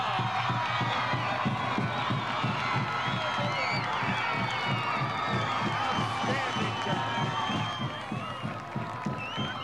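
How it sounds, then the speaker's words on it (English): Roaring high-school football crowd cheering a long breakaway touchdown run, a loud sustained wall of shouting and whooping with rhythmic chanting pulses, easing slightly near the end. "The crowd just blew us completely off the air for a moment."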